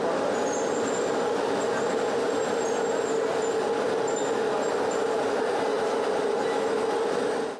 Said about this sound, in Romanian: Garnitura de tren a ajuns ieri la București după o scurtă pauză în Sinaia